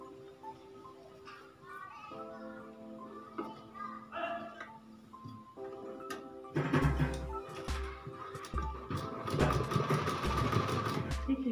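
Sewing machine stitching elastic into a girl's midi dress, faint intermittent machine hum and clatter at first, then a louder steady stitching run in the second half, with background voices audible throughout.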